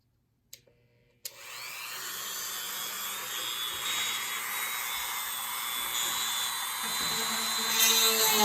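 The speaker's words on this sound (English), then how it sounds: "just kind of let the drill do its job, and I'm through" A drill bores a hole through a pierced metal jewelry pendant, giving a steady high whine that starts abruptly after a couple of brief clicks and runs unbroken to the end, with no talking.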